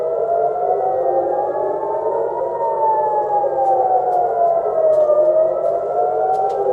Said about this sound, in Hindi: और सायरन बजने के बाद वहां क्या माहौल था